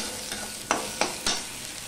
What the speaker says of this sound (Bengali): আদাটা একটুখানি করে আমি নেড়ে নেব, যতক্ষণ না আদার কাঁচা গন্ধ চলে যাচ্ছে ততক্ষণ।